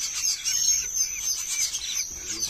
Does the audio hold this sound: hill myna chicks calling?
yes